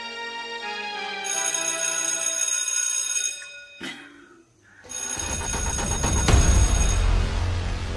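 A phone ringtone plays loudly in a clear, electronic, bell-like pattern, drops out briefly near the middle, then comes back strongly with extra low rumble, with no talk over it.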